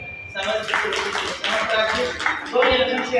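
Audience clapping at a tribute gathering, a burst of many hands that starts abruptly and swells into dense, fairly close applause, while a voice carries on over it.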